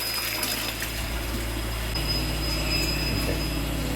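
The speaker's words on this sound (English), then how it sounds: "we're pressing our recirculation. And here, it's recirculating back to bleach water." A pump recirculates bleach water in a steady, loud, continuous whir with a low rumbling hum and a thin high tone, unchanging throughout.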